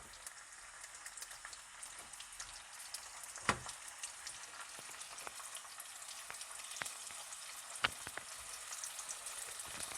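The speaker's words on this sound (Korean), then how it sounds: "핏물 좀 빠진 고기를 구워보도록 하겠습니다" Steady crackling sizzle of a whole piece of beef searing in a hot frying pan, with scattered pops and a couple of sharper spits, no voices.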